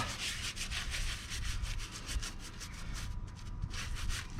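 Stubborn residue rubbed off an engine block during an 80 Series build, a close, quiet, rhythmic scrubbing with repeated back-and-forth strokes and no talk.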